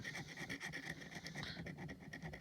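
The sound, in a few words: gently scraping with a lead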